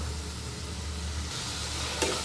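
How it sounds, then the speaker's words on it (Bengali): Bitter gourd curry with drumsticks sautés in oil, giving a continuous, even sizzle close up with a faint scrape near the end. "তো এটা ভালো করে একটু কষানো হোক"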